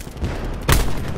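Cluster grenade blasts in Call of Duty: Black Ops 4 land as a rapid, rumbling string of explosions, with one sharp, loud burst standing out midway over continuous battle noise.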